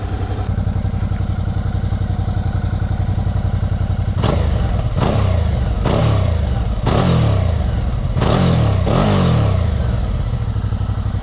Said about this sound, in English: Got quite a nice note from the exhaust for a stock exhaust